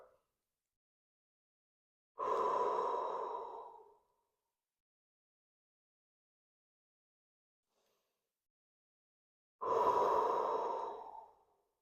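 Slow, deep breaths during a guided energy-body breathing exercise: two long, soft airy exhalations several seconds apart, each a few seconds long, with near silence between them.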